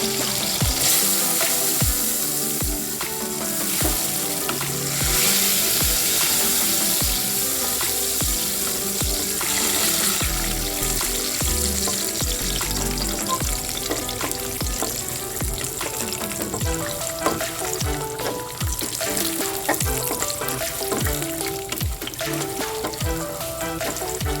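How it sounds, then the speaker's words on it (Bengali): Steady, loud sizzle of boiled raw peanuts frying in hot oil with frequent sharp clinks and scrapes of stirring, continuing without any voices. "তেল গরম আছে, প্রথমে বাদামটা ভেজে নেব।"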